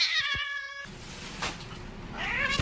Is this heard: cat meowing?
yes